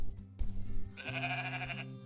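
Sheep bleat on a farm with a barn, a quavering, harmonic-rich call sustained for about a second after a brief earlier rumble, close and fairly loud against low background noise.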